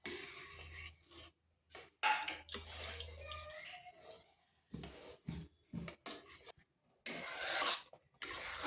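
A spoon scrapes and rubs through semolina (suji) in a pan on low heat as it is stirred for chusi pitha, giving irregular rasping strokes with short pauses, close and fairly quiet.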